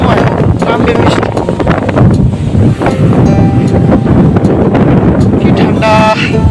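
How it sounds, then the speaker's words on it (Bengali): Strong wind gusts across the open shore of Purakhali Baor in Abhaynagar, Jessore, under cloudy skies, buffeting the microphone with loud, rumbling roars, and a faint voice briefly appears near the end. "চারিদিকে বাতাস"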